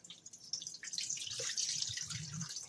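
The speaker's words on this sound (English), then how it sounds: "we're going to rinse it one more time" Cold water runs and splashes over string beans being rinsed in a kitchen sink, with close dripping and trickling sounds.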